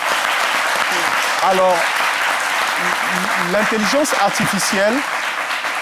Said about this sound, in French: J'aimerais que vous applaudissiez pour vous-même.